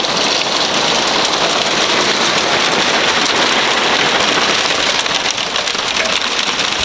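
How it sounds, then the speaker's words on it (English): Hail and heavy rain drum densely on a narrowboat roof during a thunderstorm, a constant close rattling patter with no voices. "Thunder, lightning, hail, and the boat is shaking every so often."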